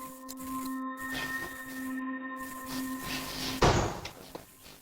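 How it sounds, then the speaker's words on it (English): Banging from an unseen spot inside a home, heard as a dull thump that stands out clearly over a steady electronic hum with tonal whine, alone and without voices. "I banging off camera."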